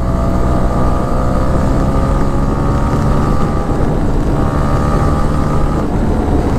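A Honda ExMotion motorcycle is ridden in fourth gear above 60 on a rough road, its engine droning loud and steady under heavy wind buffeting on the microphone.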